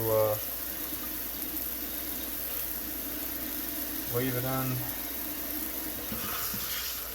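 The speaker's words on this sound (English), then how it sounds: "Give it a good soaking and cleaning here with some dish soap." Running tap water with dish soap while washing and soaking a printer bed part, a steady close hiss throughout with brief talking at the start and middle.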